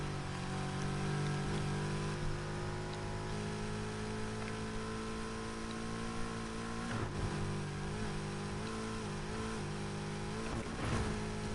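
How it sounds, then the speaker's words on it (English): Need for Speed Heat race car fitted with a 3.9-liter V8 engine, revving loud and steady throughout with sustained harmonic drone and brief gear-change dips near the end, no talking. "Whatever V8 I put in this car sounds awesome."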